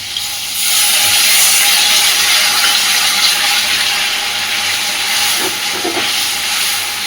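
Masala with turmeric sizzles hard in a hot pan as water goes in for an egg and potato curry, a loud, continuous close hiss that settles into a steady fizz.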